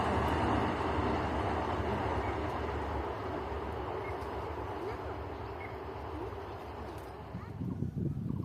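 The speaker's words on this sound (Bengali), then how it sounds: "ট্রেন দেখে" A passing train rumbles loudly and continuously at close range, a dense clatter that eases slightly toward the end, with voices and faint bird calls underneath.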